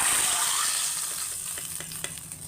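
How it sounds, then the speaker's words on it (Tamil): Prepared rasam poured into a pan of hot mustard seed tempering, giving a loud, hissing sizzle that gradually eases into bubbling and crackling pops. "இதை எடுத்து நம்ம ரசம் ரெடி பண்ணி வச்சுருக்க ரசத்தை ஊற்றி அதில் ஊற்றிடலாம்"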